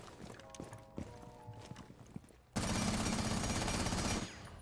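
Gunshots hitting a wall in Rainbow Six Siege, scattered sharp shots and impacts at first, then a sudden loud, sustained burst of fire lasting a couple of seconds before cutting off.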